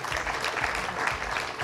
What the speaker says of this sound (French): j'invite Franck Sebag, partenaire EY, voilà qu'on peut applaudir